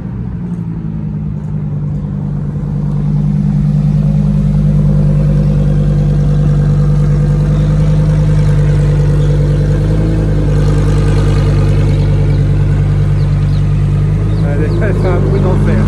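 A Dodge Viper's engine rumbles loud and close at a car meet, its deep steady drone swelling after a few seconds and holding strong, with people talking underneath.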